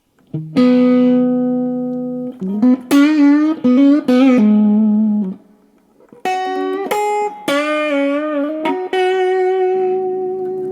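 A fuzzy, distorted electric guitar plays sustained notes and short melodic phrases through a Fender Japan amp, loud and close, with a brief pause midway.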